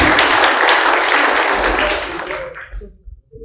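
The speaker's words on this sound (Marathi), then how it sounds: "जोरदार टाळ्या आपल्या मुलासाठी" A crowd applauds loudly and continuously at the Mahad Satyagraha centenary festival, then the clapping fades out and stops, with a few scattered claps left at the end.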